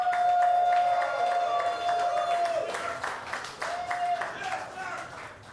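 A comedy show audience claps and cheers in a dense, steady wash of applause that holds throughout, close and fairly loud, with a sustained tone and some voices mixed in.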